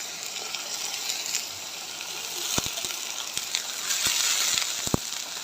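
Beaten sour yogurt hits hot, cooked-down spice paste for a chicken curry, producing a steady, bright sizzling hiss with a few sharp pops and crackles near the end.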